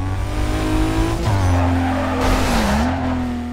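Game car in Need for Speed Carbon drifting, its engine droning steadily while tires squeal in long smeared skids through the middle, loud and close throughout with no speech.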